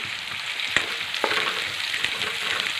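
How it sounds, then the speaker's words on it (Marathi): Onion and whole spices sauté in a pan for a Marathi-style matki rice, a steady close sizzle with a few sharp scrape or clink accents from stirring. "आता हे कांदा हे सर्व मसाले व्यवस्थित परतून घेऊ"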